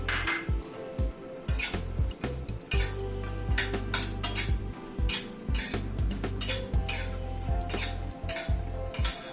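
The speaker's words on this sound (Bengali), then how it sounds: "তেলটা ঘিটা গরম হওয়ার পরে কয়েকটা মাখানা নিয়েছি, মাখানাটা ভেজে নিচ্ছি।" Makhana (fox nuts) frying in hot oil with a little ghee in a kitchen pan, soft sizzling under repeated clinks and scrapes of a metal spoon stirring against the pan, close and steady.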